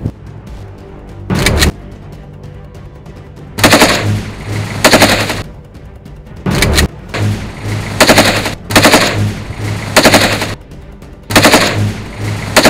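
Indiscriminate gunfire rings out from the hills in repeated loud bursts of automatic fire, separated by short quieter gaps, with a low steady hum underneath.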